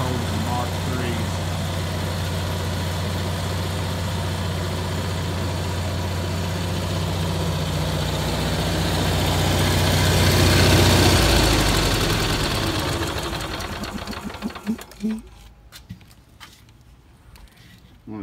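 A motorhome generator runs steadily with both air conditioners on, giving a loud, constant low engine hum that swells in the middle and then cuts away near the end, leaving faint clicks.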